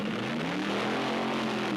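A race car roars past at full throttle, its engine note a steady, loud drone with a slight pitch rise and fall through the short burst, thick with road and wind noise.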